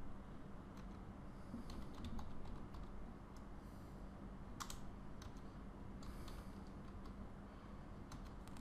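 Someone types on a computer keyboard while entering text into an Excel worksheet, producing quiet, close, irregular key clicks in short bursts over a faint steady hum.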